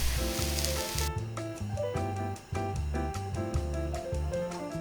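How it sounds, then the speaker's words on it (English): Oyster mushrooms stir-fried with garlic and green onion sizzle briefly in a hot pan, a short burst of frying hiss over steady background music. "Adding the oyster mushrooms, stir fry and season with some salt, and serve."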